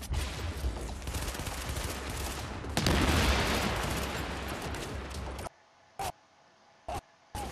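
Loud, dense gunfire from the video game Tom Clancy's The Division, rapid continuous bursts swelling in the middle of the firefight, then dropping off to near silence broken by a few short, sharp shots near the end.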